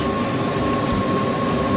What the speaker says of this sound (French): Il y a des trains en couleur spéciale de Monaco.